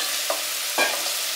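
Sliced onion and tomato sizzle in hot oil in a pan for a Kerala-style soya chunk roast, a steady close frying hiss with two quick scraping stirs.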